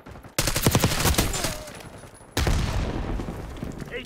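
Gunfire in Black Ops 6 multiplayer, rapid automatic bursts crackling loud and close, fading briefly before another heavy volley erupts, with a voice talking over the shooting.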